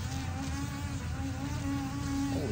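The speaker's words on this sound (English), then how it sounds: "He's still buzzing." An insect buzzes close up in a steady, continuous drone with a low hum under it, and no talk.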